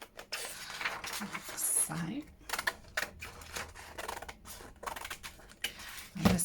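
Scissors snip around a piece of clear-stamp packaging for a junk journal: a series of crisp, close cuts at irregular intervals, with a quiet voice talking at times.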